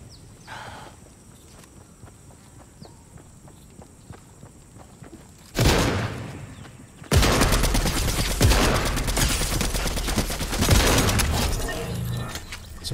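Automatic shotgun fire in a video game: after a stretch of quieter footsteps and movement, a sharp burst erupts, then a long, dense stretch of loud rapid shots and impacts follows.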